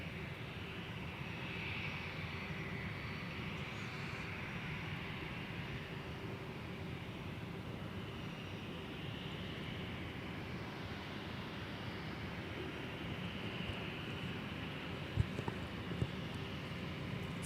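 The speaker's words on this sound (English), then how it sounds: "turn left heading 120, runway 17, clear for takeoff" An airplane taking off from runway 17 at Minneapolis–St. Paul airport at night: a steady, fairly quiet, distant jet engine roar that holds evenly throughout, with a couple of faint ticks near the end.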